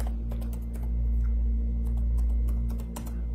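A computer keyboard is tapped while a search is typed, giving a quick, irregular run of light clicks over a steady low electrical hum, with no one speaking.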